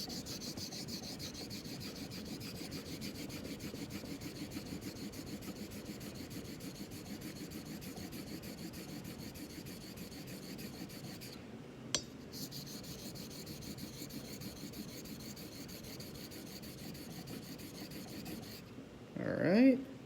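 Filarmonica 14 straight razor stroked back and forth on a hone while its bevel is set, making a continuous soft, even rubbing rasp, close and steady, with a brief break partway and a louder scrape at the end.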